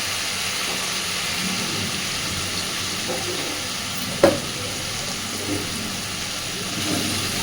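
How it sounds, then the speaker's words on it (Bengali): Boiled cabbage tipped into a pan of potatoes frying in spices for a vegetarian cabbage curry, with a steady loud sizzle throughout and one sharp knock partway through. "এইবার সিদ্ধ করে রাখা কপিটা দিয়ে দেব।"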